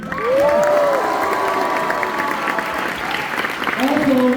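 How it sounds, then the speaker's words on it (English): A crowd at a high school applauds steadily for several seconds, with cheers and whoops rising above the clapping throughout. "let's give a round of applause for the group leader, please."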